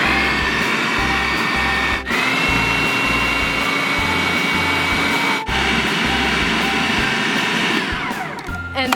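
A blender or food processor whizzes cocoa, salt, baking powder and baking soda in loud, close bursts of motor whine, briefly stopping twice before spinning up again, with a rattling finish.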